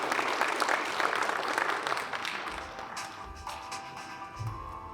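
An audience at an investor presentation applauds to welcome a speaker, with dense clapping at first that thins out into scattered claps.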